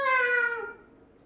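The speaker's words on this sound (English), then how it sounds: "Here comes a cat." A single cat meows once in a clear, drawn-out, falling tone, loud and close, then trails off to quiet.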